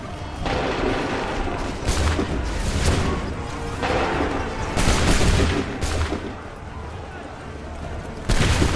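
Repeated booming musket volleys ring out in the Assassin's Creed 3 video game, heavy blasts arriving in several bursts over a dense battle din, with shouted voices in the mix.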